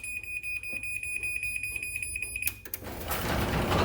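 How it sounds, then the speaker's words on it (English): A Chamberlain side-mount garage door opener gives a rapid train of sharp electronic beeps close by, then cuts off into a louder mechanical rush and hiss. "The light blinks a couple of times, it beeps a lot"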